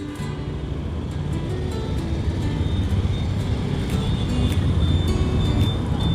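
Steady road traffic in Agargaon, Dhaka, with buses among the vehicles: a continuous dense rumble of engines and tyres, fairly loud and swelling slightly toward the end, with brief higher noises scattered through.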